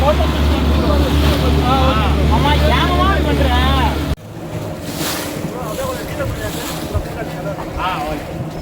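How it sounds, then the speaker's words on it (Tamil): Sea at Pondicherry by a rocky shore, with surf and wind buffeting the microphone; a loud tonal stretch with a voice gives way to rushing waves and gusty noise in the second half. "பாத்துக்குங்க, பாண்டிச்சேரி இந்த கடல்."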